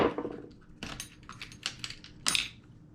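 A spur gear is yanked free from the drivetrain of a wet Hobao Hyper MT+2 monster truck, giving close, sharp plastic-and-metal clatters and rattles in a few quick bursts.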